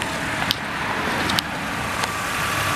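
Steady road noise from a car rolling along on a failing Continental snow tire, a constant broadband roar with a few brief clicks and thumps over the top.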